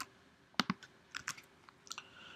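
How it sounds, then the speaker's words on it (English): Quiet keystrokes on a computer keyboard, a handful of sharp, uneven clicks in short clusters, close and alone without any talk. "enough typing"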